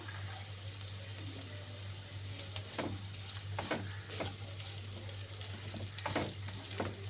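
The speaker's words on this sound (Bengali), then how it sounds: "পেঁয়াজটা হালকা করে ভাজা হবে।" Chopped onion, carrot and beans frying in a pan for suji upma give a steady close sizzle with occasional stirring scrapes over a constant low hum.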